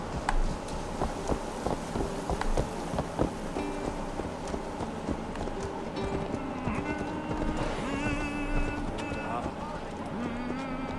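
Horse hooves clip-clop in Assassin's Creed Valhalla, a steady galloping patter under busy game sound with music and a brief whinny, while someone talks over it.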